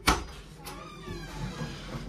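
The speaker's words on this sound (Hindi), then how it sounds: "बाहुबली का तो पूरा खुल जाएगा दरवाजा खोल खोल" A cupboard door on newly assembled furniture opens with a sharp knock at the start and a second lighter clack soon after, followed by quiet room sound and faint background murmur.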